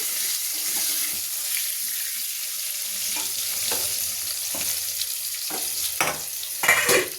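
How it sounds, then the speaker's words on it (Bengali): Potatoes with turmeric fry in hot oil, giving a bright, even crackling sizzle that runs throughout, joined by occasional spatula scrapes and taps that grow busier toward the end, heard close with no speech. "সামান্য একটু হলুদ গুঁড়ো দিয়ে আলুটাকে লাল করে ভেজে তুলে নেব।"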